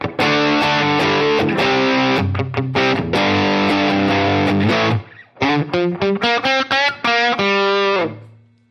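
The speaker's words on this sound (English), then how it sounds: "here's the more preamp kind of sound" Electric guitar with a crunchy, buzzy preamp distortion from a Dumble-style amp patch strums sustained chords, then choppy stabbed chords, ending on a ringing note that fades.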